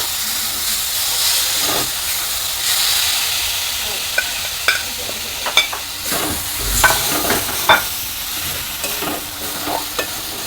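Marinated bhetki fish in a pan, cooked for fish cutlets: a steady, loud sizzling hiss with scattered sharp clicks and scraping taps of stirring, and no voices.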